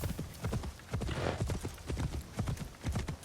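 Horse hooves clip-clop at a steady galloping rhythm in Assassin's Creed Shadows, loud and close, with repeated hoofbeats running through the whole stretch and no talk over them.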